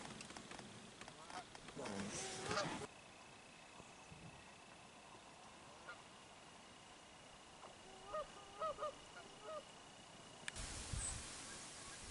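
Several geese honk in short clustered bursts at a moderate distance, over a quiet outdoor background with occasional handling noise, during a Minnesota duck hunting opener.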